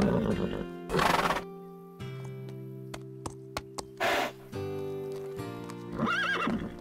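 A horse in an animated cartoon neighs loudly twice, with shrill whinnies standing out above sustained musical tones and light percussive taps.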